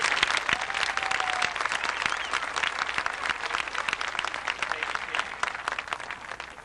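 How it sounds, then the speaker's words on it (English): Sustained audience applause at a 1993 high school graduation ceremony honoring graduates, a dense steady wash of many hands clapping in a large hall, loud and continuous, easing slightly toward the end. "Let's give these young people a clap."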